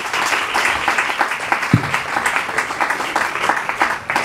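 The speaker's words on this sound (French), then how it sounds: "Des applaudissements, s'il vous plaît." Audience at a school event in a Congolese college applauding loudly and densely, a continuous wash of many hands clapping with one sharp low thump partway through.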